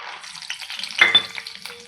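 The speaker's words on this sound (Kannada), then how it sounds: "ಈಗೇನು ಮಾಡ್ತೀನಿ ರೀ, ಶೇಂಗಾದ ಕಾಳು ಹಾಕೋತೀನಿ ರೀ." Peanuts dropped into hot oil in a pan crackle and sizzle, a close, bright frying hiss with a quick burst of popping as they hit the oil, then a steady sizzle.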